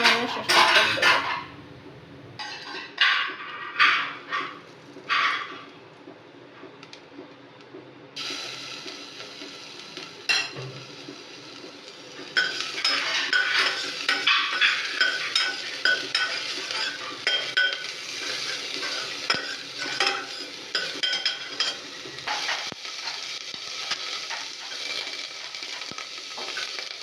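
A spoon stirs and scrapes in a pressure cooker while food fries and sizzles in mustard oil, first in a few sharp separate clatters, then after a pause a steady sizzle with continuous scraping and clinking, fairly close.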